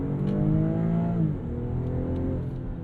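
A BMW X3 M40i with its B58 inline-six pulls hard from inside the cabin, a steady engine drone rising in pitch, dipping briefly at a gear change, then climbing again.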